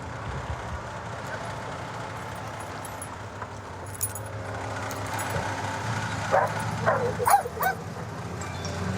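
A police dog barks and yips intermittently in the distance while being run around a car at a roadside stop, over a steady outdoor rumble of traffic, with occasional jingling and clanks nearby.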